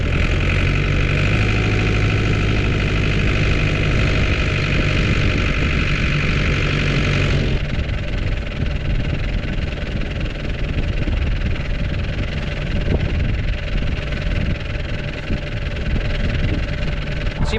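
Tractor engine running with a topper mower attached, a loud, steady, close droning hum whose tone shifts partway through and then continues evenly, with no voices.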